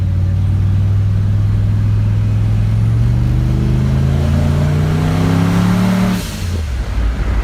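A car engine fitted with a new partial exhaust and a P59 ECU revs loudly and close, its pitch climbing steadily for several seconds before dropping back to a lower rumble.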